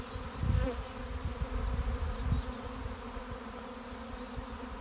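Dense, steady buzzing of a swarming honeybee colony close by, a continuous drone with wings passing near the microphone and no voices.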